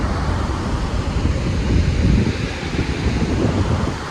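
Water rushes from the fully opened gates of Hidkal dam, a dense, continuous roar heard at close range with no voices over it.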